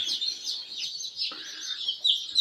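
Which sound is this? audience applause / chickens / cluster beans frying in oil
chickens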